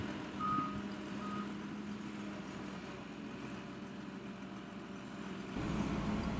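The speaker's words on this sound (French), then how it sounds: "ça fait franchement quelque chose de voir son camion embourbé comme ça et de voir d'autres en train de le sortir" A truck reverses with two sharp warning beeps over a steady engine drone as it works to pull a camper truck stuck in mud, the engine rising louder near the end.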